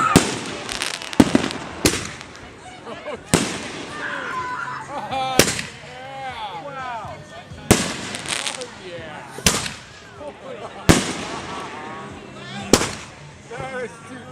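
Fourth of July firework canisters go off in a series of loud, sharp booms spaced a second or two apart, each followed by crackling and whistling, while people shout and cheer nearby between the blasts.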